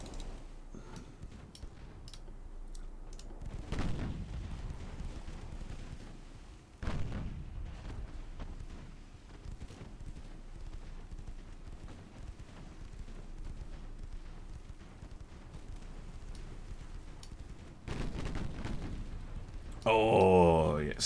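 Explosions from a ship being blasted apart in a naval warship video game, heavy booms and rumbling blasts recurring over roughly twenty seconds, with sharp bursts near the start, middle and end under a continuous loud battle din.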